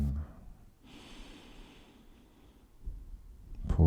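A slow, deep inhalation through the nose, soft and close, rising gradually during a quiet yoga session, followed by a brief rustle.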